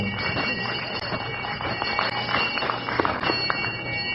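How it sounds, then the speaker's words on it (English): A bell rings through a busy, slightly muffled background of overlapping voices and noise. "there's the bell, kids, tolling the end of our examination tonight"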